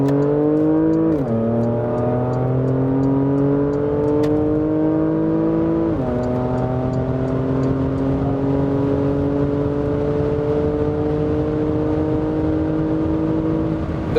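A Porsche Macan GTS with a 3.0 V6 in sport exhaust mode pulls hard at full throttle on the Autobahn, its engine note climbing steadily through two upshifts in a continuous loud, smooth roar.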